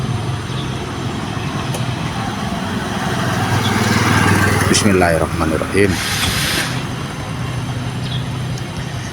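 Honda Supra X 125 motorcycle engine cranks and catches, then idles with a steady low rumble close by while someone speaks briefly over it.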